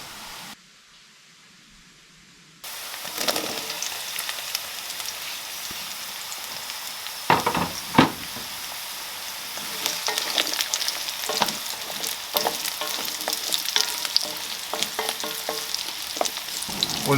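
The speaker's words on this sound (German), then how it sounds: "während das Gemüse brutzelt" Chunks of peeled carrot, parsley root and onion, cut 3 cm thick, sizzle in a pan for a Balkan paprikaš, giving a loud, steady frying hiss with occasional sharp clatters from stirring.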